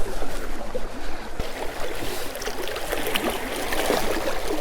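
Creek water gurgling and trickling around someone wading barefoot across it, close splashy burbling with small irregular sloshes over a steady flow, no speech.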